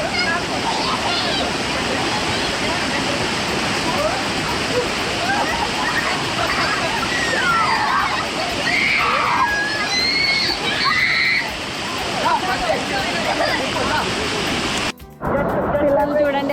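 Aira Force waterfall in the Lake District, UK, rushes with a steady broadband roar, with splashing and voices of people playing in the clear stream below.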